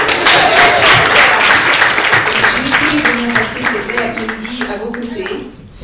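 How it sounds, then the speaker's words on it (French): Audience applause fills a conference hall, a steady wash of clapping that runs for several seconds with voices mixed in, then thins out toward the end. "Allez, applaudissez-vous."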